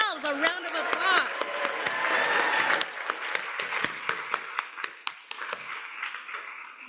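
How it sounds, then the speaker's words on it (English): A medical school class, Class of 2028, claps loudly at its white coat ceremony, sustained applause filling a large hall before fading into scattered claps while a speaker addresses them. "Give yourselves a round of applause."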